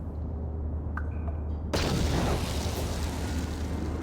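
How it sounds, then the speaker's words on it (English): A cryoban frag grenade detonates in Knights of the Old Republic, a sudden loud icy burst that follows a few faint clicks and then lingers as a sustained crackling hiss over a low game hum. "Cryoban frag grenade."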